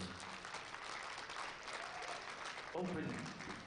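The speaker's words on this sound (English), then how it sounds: "One more round of applause" Audience applause at a powerlifting national championship medal ceremony: dense, sustained clapping from a crowd filling the whole stretch at even loudness.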